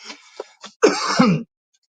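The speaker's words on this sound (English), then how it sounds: "Damn it, I got a cough." A few short throat sounds lead into one harsh, rasping cough up close, followed by silence.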